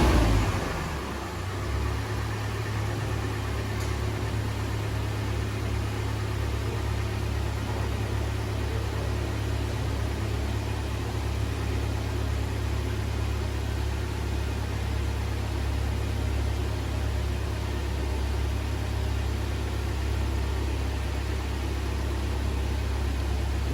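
A car engine held at a steady high idle, a constant low droning hum with a slight initial rise before settling into an unchanging, moderately loud tone that continues throughout with no talk.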